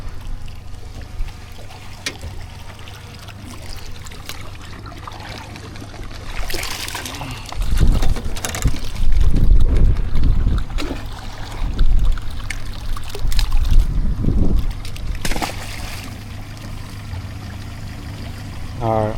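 Gusty outdoor wind buffets the microphone during a motion duck decoy setup, with a steady low rumble that swells into heavy, loud bursts partway through before easing again.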